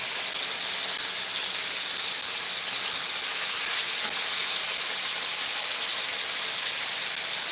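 Chicken thighs frying in a pan give a loud, steady, close hissing sizzle that holds evenly throughout with no voices.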